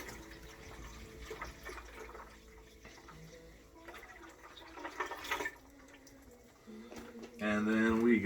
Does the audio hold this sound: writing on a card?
no